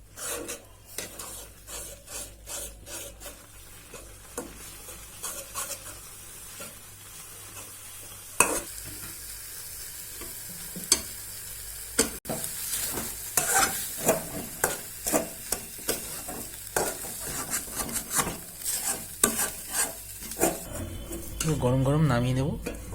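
Rice flour stirred into salted hot water in a pan for pithe, a spoon scraping and rasping steadily against the metal in close, repeated strokes, with a soft sizzle and louder scraping toward the end.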